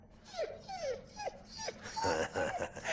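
A German shepherd whimpers in a series of short, high, falling whines, about five in quick succession, followed by a longer whining cry, all close and fairly quiet.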